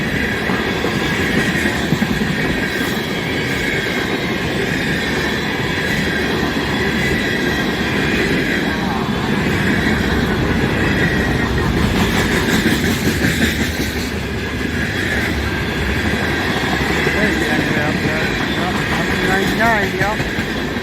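A CN freight train hauling tank cars rolls past in Michigan. It is loud and close, with constant rumbling, rhythmic clickety-clack from the wheels and occasional squeals, while people talk briefly over it.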